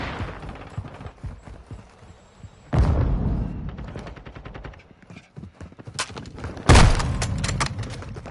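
Rapid automatic gunfire in Modern Warfare 2 rattles in dense bursts, with two sudden louder volleys cutting in close and heavy between quieter stretches of shooting.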